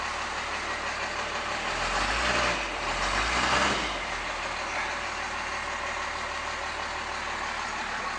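A 1992 Dodge Power Ram 4x4 first-generation Cummins turbo diesel truck idles steadily, a low, continuous engine rumble that briefly swells for a moment before settling back, heard alone with no talking.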